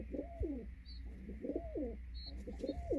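Soft, repeated coos from a young pigeon in three rolling phrases at an even pace, fairly close, over a low steady background hum.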